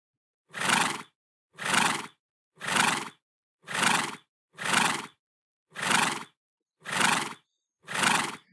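A horse neigh sound effect played eight times in a row, each a loud close whinny of under half a second, evenly spaced with short silent gaps and no other sound.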